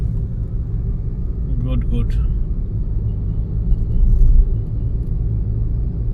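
Car driving through Bhubaneswar traffic near Delta Square, a continuous low engine rumble and road noise from inside the vehicle, with a brief spoken word and faint horn-like tones partway through.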